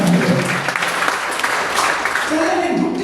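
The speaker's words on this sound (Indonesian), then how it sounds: "Berikan tepuk tangan." A church congregation breaks into a burst of applause during a sermon, steady clapping filling the room for a few seconds.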